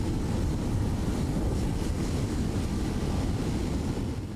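Rocket engines fire at launch in Buzz Aldrin's Space Program Manager video game, a loud, continuous low roar rumbling steadily for several seconds before easing slightly at the end.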